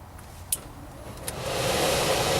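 A 3-speed AC blower fan motor starts up during air conditioner service: a couple of faint clicks, then a steady airy whoosh swells in and holds, smooth and constant.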